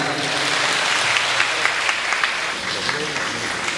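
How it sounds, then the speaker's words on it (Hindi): Applause from an audience at a Hindi poetry recital, a continuous broad clapping that holds steady throughout with a voice or crowd murmur mixed underneath. "ताली बजाओ।"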